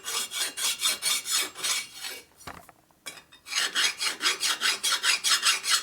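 A metal file rasps back and forth across an aluminum Harley-Davidson Sportster 1200 cylinder head, with close, rhythmic strokes in a steady run, a short pause, then another fast series of even strokes.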